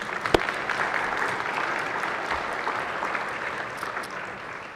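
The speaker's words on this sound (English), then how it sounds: "Okay, let's give them a round of applause." Steady applause fills a state Senate chamber during a floor session, honoring visiting interns and their staff chaperones; the clapping is sustained and even throughout, heard from within the room without talk over it.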